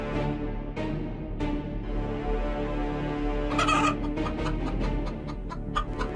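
A cartoon chicken clucks repeatedly nearby, with a burst of agitated squawking partway through, then quick clucks continuing.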